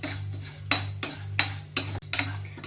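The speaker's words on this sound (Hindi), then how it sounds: "थोड़ा सा इसे भूनना है, बस इसे रोस्ट करना है, ज्यादा सा ब्राउन नहीं करना है।" Thick vermicelli is dry-roasted in a pan while a utensil stirs it. Regular metallic scrapes and knocks come roughly every half second, close and clear over a low steady hum.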